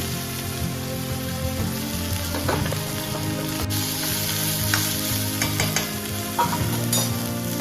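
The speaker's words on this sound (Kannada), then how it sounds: "ಈಗ ಹೆಚ್ಚಿದ ಹಾಗಲಕಾಯನ್ನು ಹಾಕ್ತಾ ಇದ್ದೇನೆ." Chopped bitter gourd sizzles steadily in a hot pan with mustard seeds and curry leaves, a dense, continuous frying hiss close by with occasional stirring scrapes and pops.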